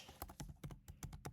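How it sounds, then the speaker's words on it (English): Quiet computer keyboard typing: a steady patter of individual key clicks at an even rhythm, close but faint, with no voices. "sometimes maybe just typing it out a second time"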